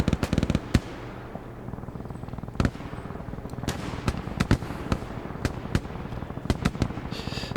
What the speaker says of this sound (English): It's not just ambient sound. It's actual player-based gunfire.